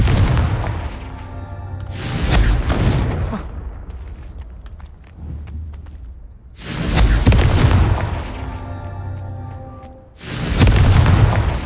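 Three heavy, booming blasts from a Confringo fire spell in Hogwarts Legacy, each loud and broadband with a long rumbling decay, spaced a few seconds apart, with quieter game ambience between them.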